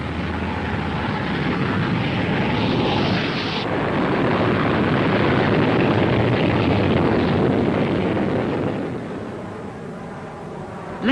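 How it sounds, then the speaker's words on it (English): A 1941 rocket-powered aircraft takes off and climbs, its engine a loud, sustained roaring rush that holds steady and then eases slightly toward the end. "On becoming airborne, the undercarriage was jettisoned, and the aircraft demonstrated an amazing rate of climb."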